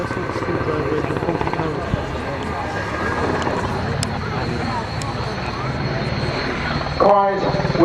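A Swiss Eurocopter Cougar helicopter flies at Waddington Airshow, its rotor and turbine roar loud and sustained throughout, with a choppy rhythmic beat surging briefly near the end.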